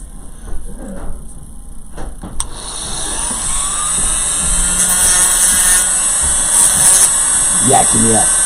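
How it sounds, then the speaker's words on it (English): Dremel rotary tool whirring at high pitch, starting quietly and building to a steady loud whine while someone hums and talks nearby with scattered handling clicks. "Break out the Dremel and the tools."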